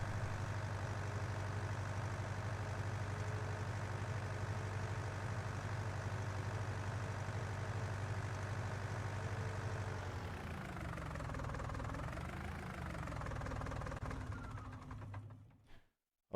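John Deere 2520 and two-wheel-drive Allis Chalmers tractors idle outdoors with a steady low diesel rumble; after a while the tone wavers and shifts before the sound cuts off at the end.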